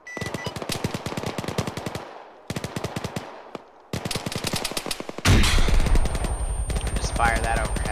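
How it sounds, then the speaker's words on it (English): Rapid automatic cannon fire from an aircraft gun run in the video game Arma 3, long loud bursts of evenly spaced shots with short pauses, ending in a heavy roaring impact. "Gun run incoming."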